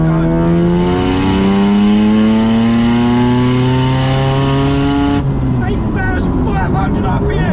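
A 500 WHP Mazda RX7 FD 3S with a fully built turbo rotary engine, pulling hard at full throttle in third gear. The loud rising engine note climbs steadily, then drops sharply with a gear change and rough sputtering.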